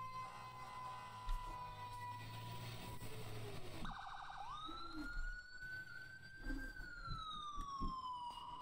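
An ambulance siren in the video game EmergeNYC wails, its pitch rising and falling in long sweeps, steady and moderately loud against background noise.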